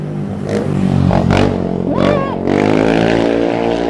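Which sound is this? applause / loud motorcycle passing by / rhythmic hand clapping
loud motorcycle passing by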